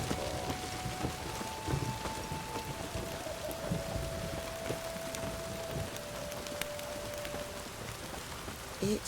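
Steady rainfall in The Witcher 3: Wild Hunt patters on surfaces with scattered drips and taps, a soft continuous wash with faint tonal hums beneath it.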